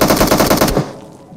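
Rapid automatic gunfire from a teammate in the PUBG Mobile video game, loud and close, with a dense burst of shots lasting under a second before cutting off into a fading tail.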